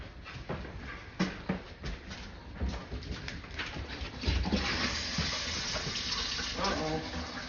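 Tap water runs steadily into a sink or bowl for abandoned cats, a continuous splashing flow with a few brief knocks and voices talking over it.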